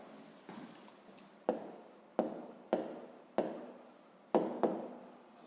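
Pen writing an answer by hand on paper during a fifth-grade maths exercise, a series of short scratching strokes in a steady rhythm, close and quiet, with no talking.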